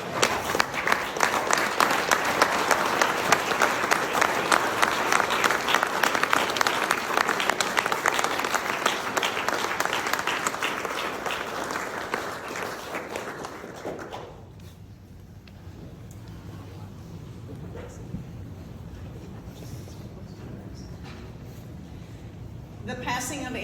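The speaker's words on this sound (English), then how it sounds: "If everybody could maybe just stand up and let's all give Amber a hearty clap." A standing crowd at a memorial service gives sustained, dense applause that holds strong for about fourteen seconds, then fades quickly into a hushed room where a voice begins speaking.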